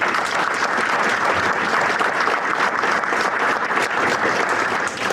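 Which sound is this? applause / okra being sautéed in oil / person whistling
applause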